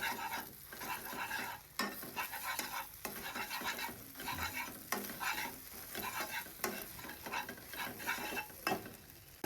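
An omelette fries in a pan with a steady sizzle, broken by sharp spatula scrapes and knocks as it is turned over, close up and with no voices.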